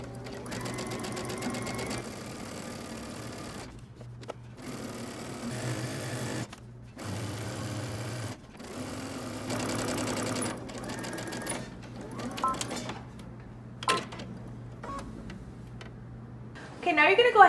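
A sewing machine stitches the elastic casing on a pair of shorts, running in several separate bursts with pauses between them, close and steady.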